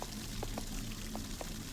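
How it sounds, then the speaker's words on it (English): In the horror video game Little Goody Two Shoes, a flowing water current rushes as a steady, dense wash with a few soft splashy blips over it, filling the short moment without any talk. "Something resembling a water current,"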